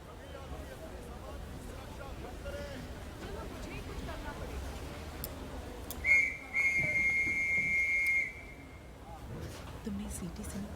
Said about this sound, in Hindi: तुमने सीटी सुनी क्या?